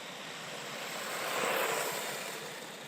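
A GPToys S920 Judge Pro budget RC truck runs at full throttle, its electric motor a steady broadband whir that swells as it passes and then eases slightly, heard alone outdoors.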